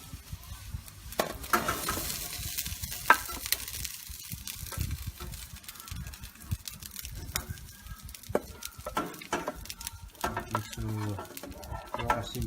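Garlic and onion frying in a pan, a crackling sizzle with scattered sharp pops and clatters from stirring, moderately close, with people talking over it at times.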